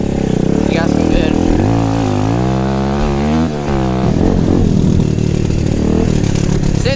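An SSR150R dirt bike engine revs up loudly during a ride, rising and falling in pitch with a steady buzzing drone, close and prominent, with the rider speaking over it at times.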